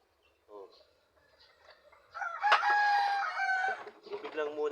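Backyard chickens clucking at feeding time, with a rooster crowing loudly up close midway through and a mix of hen calls around it.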